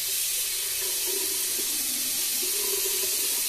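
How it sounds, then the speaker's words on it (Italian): Tap water running continuously into a sink before a wet shave, a steady close hiss and splash with slight changes in the stream's tone. "Non vuole diventare calda l'acqua."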